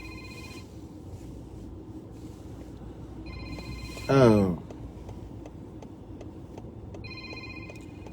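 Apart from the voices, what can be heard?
telephone ringing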